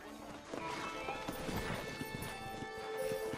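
Horse galloping in the Western video game Red Dead Redemption on PS3, steady hoofbeats running throughout under game music and background voices.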